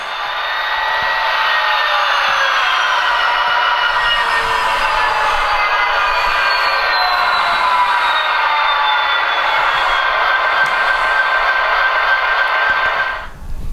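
Sound decoder in an Athearn Genesis SD70 Illinois Central model locomotive playing a diesel engine notching down, a loud steady mechanical drone whose pitch gradually falls before cutting off abruptly near the end.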